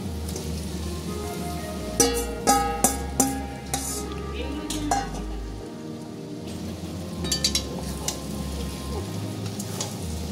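Boiled baby potatoes are stir-fried with masala in a kadai, giving a steady oily sizzle with several sharp clacks of a spoon scraping against the pan in bursts.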